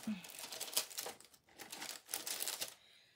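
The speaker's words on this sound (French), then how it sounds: "je vais mettre tout de suite le double face partout" Double-sided tape being handled and pressed down while crafting ATC cards with stamps: dense crinkly, crackling bursts in irregular clusters, close and moderately loud, with a faint voice at the start.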